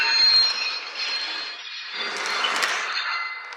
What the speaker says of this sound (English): You get a little bit more squeal and a couple of other effects thrown in there.